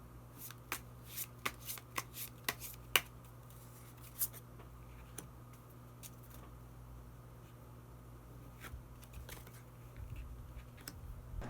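Tarot cards are shuffled and drawn by hand at close range, giving a quick run of sharp riffling snaps and flicks early on, then softer sporadic card handling and sliding over a quiet room.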